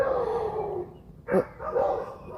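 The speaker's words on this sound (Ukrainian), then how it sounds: "ой, знову сусідські собаки заважають" Neighbouring dogs bark a few times in the middle distance, a short burst of barks standing out over steady background noise, with no talking.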